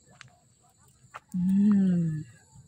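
A rooster on a mountain farm lets out one loud, drawn-out crow lasting about a second, preceded by faint scattered clucks and bird chirps in a quiet outdoor setting.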